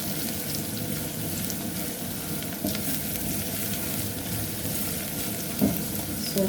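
Salted onions fry in a pan with a steady, even sizzle lasting the whole stretch, broken by a few faint clinks of stirring.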